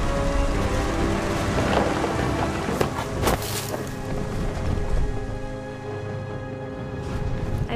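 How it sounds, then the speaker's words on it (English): A loud, dense thunderstorm from the video game What Remains of Edith Finch, with steady heavy rain and deep rolling thunder that swells and cracks in the middle of the stretch. "The thunder sounded much too close and full of angry power."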